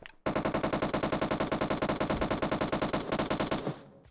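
Automatic gunfire in the PUBG Mobile video game: one long, loud, rapid burst of evenly spaced shots lasting about three seconds, then a quick fade to quiet.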